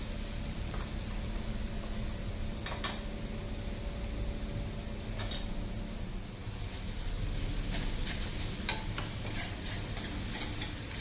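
Ground spice paste for an urad dal dish sautéing in a pan, a steady soft sizzle with occasional scraping strokes of a spoon stirring through it, close and continuous with no voices.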